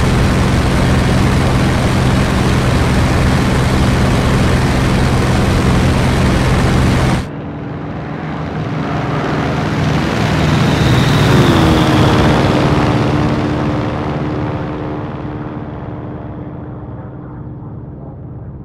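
A WWII fighter plane engine drones loudly and continuously in the Battle of Bodenplatte flight game, a P-47D Thunderbolt or Bf 109K. The tone shifts abruptly partway through, then swells and fades slowly, with no talking.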